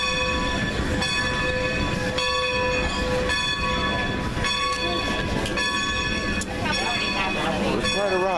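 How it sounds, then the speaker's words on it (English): A Strasburg railroad train repositions to pick up the next passengers, a loud steady rumble of moving cars with sustained horn or whistle tones and clanking, a voice briefly heard near the end. "They're moving the train to go back to the position where so it could pull the next group"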